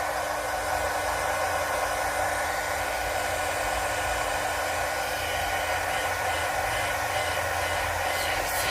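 Heat tool warming stamped craft foam, a steady, loud blowing whoosh that holds close and unbroken for several seconds with no talking.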